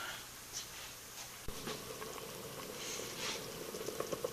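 Beef broth boiling in a pot, a soft continuous bubbling with scattered pops and blips that grows busier toward the end, fairly close and alone.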